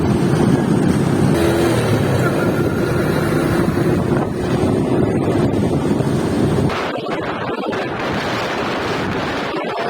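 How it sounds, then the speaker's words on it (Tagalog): Strong wind buffets the microphone on C5 Road in a loud, continuous roar, with a low rumbling rush that eases slightly partway through. "malakas yung hangin guys"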